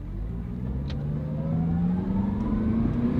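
A used car's engine revs up as it is given gas, a steady mid-pitched drone that climbs smoothly in pitch, close and continuous with no voices over it.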